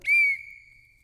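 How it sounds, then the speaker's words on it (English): A referee's whistle gives one sharp, shrill blast that holds a steady pitch for about a third of a second, then rings out and fades, heard alone and fairly close. "so that when they do blow that whistle"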